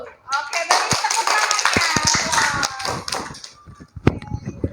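Students in a classroom clapping, a short burst of many hands with shouting and voices over it, fading into scattered individual claps and talk.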